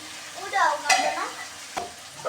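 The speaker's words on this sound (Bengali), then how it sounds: "মরিচ পেঁয়াজ ভেজে নেব প্রথমেই, তার জন্য পরিমাণ মতো তেল দিয়ে দিচ্ছি।" Chopped chillies and onion fry in oil while being stirred, giving a soft sizzle broken by a few sharp scraping strokes of the spoon against the pan.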